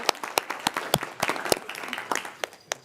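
Scattered applause from a small audience at a city council meeting in Roseville, California. Individual claps land unevenly, and a few sharper ones stand out over a thin patter that gradually tapers off.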